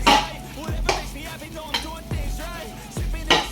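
Egg fried rice made from leftover white rice is stirred in a pan, with repeated scraping and knocking strokes of a spatula against metal at an uneven rhythm, close and moderately loud.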